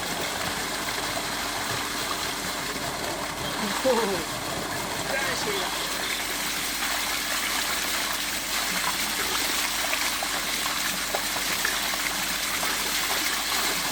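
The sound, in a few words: cool flowing water in a village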